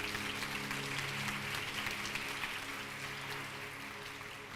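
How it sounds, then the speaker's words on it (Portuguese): Sustained applause from a church congregation, a steady wash of many hands clapping at moderate distance, with a faint hum underneath. "Pode aplaudir ao Senhor por isso."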